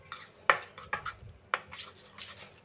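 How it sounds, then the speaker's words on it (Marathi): Spoon stirring egg tahari masala mixture in a metal pan, several sharp clinks and scrapes against the pan in an uneven rhythm, quiet and close with no voices. "आता आपण हे मिक्स करून घेऊया। एकदम व्यवस्थित मिक्स करून घेऊया छान।"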